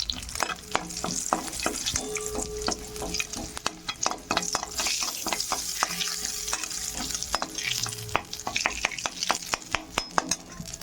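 Dried red chillies fry in hot oil in a pan, a continuous loud sizzle broken by frequent sharp clicks and scrapes of a spatula stirring against the metal.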